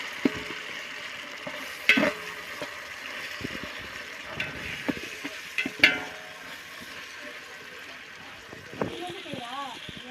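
Ingredients for home-style biryani are sautéed in a pan, with a quiet sizzle and sharp clinks and scrapes of stirring, while a person talks over it.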